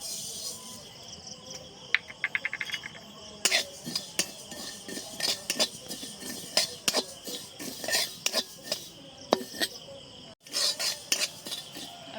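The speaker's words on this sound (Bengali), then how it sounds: "এবার খানিকটা কালো জিরেও ভেজে নেব" Nigella seeds (black cumin) frying in a pan for a Bangladeshi garlic bharta, with sharp metal utensil clinks and scrapes of stirring over a steady sizzling hiss, close and fairly loud with no talk.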